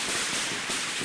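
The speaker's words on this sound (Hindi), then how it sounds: "पटाखे लगाओ, वहाँ से भाग।" Firecrackers go off in a quick outdoor burst, a dense, fairly loud crackle of overlapping pops over about a second with no clear speech.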